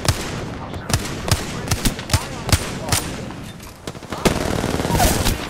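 Gunfire in the battle royale game Apex Legends, a run of sharp, loud shots in an uneven rhythm, later giving way to denser, continuous firing near the end.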